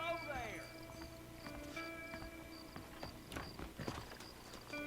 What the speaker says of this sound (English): the horse would rear 3 times before actually starting to move